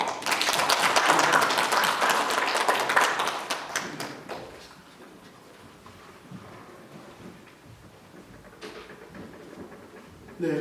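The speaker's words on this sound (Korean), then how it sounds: "우리 모두 하나님께 영광을 올리는 박수" A church congregation applauds at a Sunday worship service. Loud, dense clapping fills the first few seconds, then thins out and fades to scattered claps and low murmuring, with a brief swell near the end.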